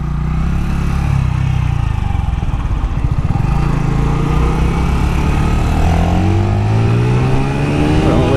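An Orcal Astor 125 Euro 4 café racer motorcycle with its exhaust baffle removed pulls away close by, its loud, raspy exhaust note rising in pitch through the gears as it accelerates.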